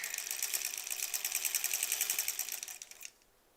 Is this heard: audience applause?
no